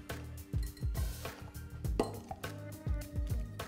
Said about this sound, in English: Then you just carefully fold this through with a metal spoon.